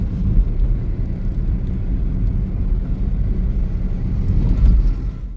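A loud, steady low roar of an airplane overhead, rumbling continuously with street noise mixed in from a crowded market road in Amritsar.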